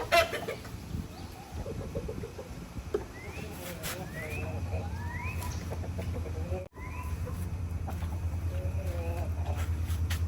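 Hens and roosters in a backyard coop on a Michigan summer morning cluck and call repeatedly at close range over a low steady background hum.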